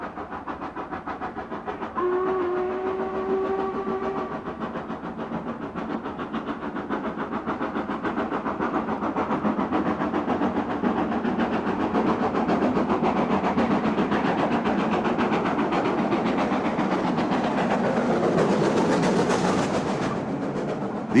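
An LMS express steam locomotive running, a short two-tone whistle early on, then a building roar of the engine working and drawing nearer, swelling loudest toward the end.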